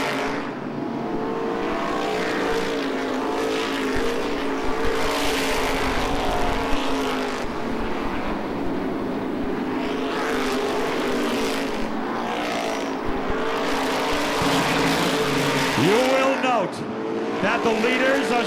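Race cars roar down the back straightaway at Lee USA Speedway during an Oktoberfest event, a loud continuous engine drone with passing cars and a brief tire squeal near the end, while a commentator talks throughout.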